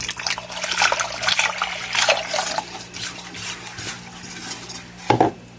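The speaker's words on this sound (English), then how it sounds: "I'm going to go ahead and whisk this" Whisk stirring sweet and sour sauce ingredients of water, vinegar and soy sauce in a pot on the stove, with repeated scraping and clinking strokes against the metal and a louder clank near the end.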